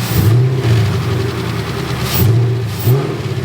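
A 2019 Ford Mustang GT with cat-delete exhaust rumbles loud and close with a deep V8 note, revving up in short bursts between lower idling stretches.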